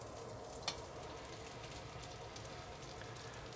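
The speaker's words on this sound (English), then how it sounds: "Now I'm going to put the whites of the scallions in." Scallion whites frying in a hot wok for Sichuan fish fragrant eggplant, a faint, even crackling sizzle throughout with one small clack near the start, no voices over it.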